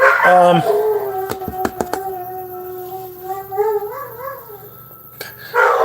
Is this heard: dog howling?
yes